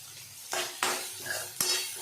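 Tomato and salt masala being stirred in a pan, three distinct scraping strokes of a spoon against the metal over a soft, faint sizzle.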